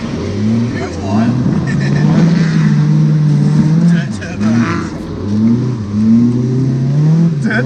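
A 4AGE-engined drift car revs hard on a wet street drive, its loud engine note rising and falling in repeated surges close by, with people talking inside the car over the engine.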